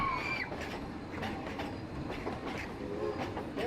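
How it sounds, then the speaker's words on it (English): Frisco Silver Dollar Line steam train rolls along the rails with a steady clickety-clack of wheels and occasional faint squeals, close and continuous with no talk. "we do want to keep this old steam train clean"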